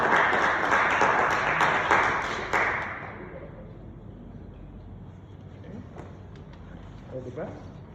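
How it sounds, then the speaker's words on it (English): Audience at a regional student paper contest applauding a presenter, a dense burst of clapping that runs about three seconds before dropping off into quiet room noise with a few faint taps. "Clap for him."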